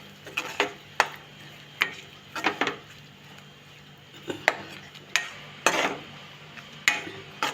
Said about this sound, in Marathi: थोडा ढवळून घ्यायचा आहे।